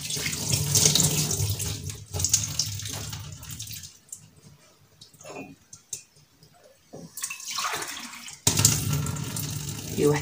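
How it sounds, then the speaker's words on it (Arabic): Water poured while cooking a barley dish for Ramadan, a steady running pour that starts and stops in several bursts with quieter gaps between, close and fairly loud. "هي واحد الكويس ديال الماء"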